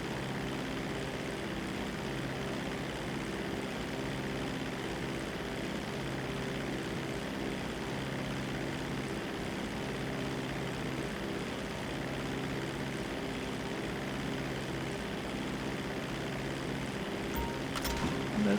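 A continuous propeller seaplane drone in a video game, steady and moderately distant, with an even hum throughout and a brief sharper noise near the end.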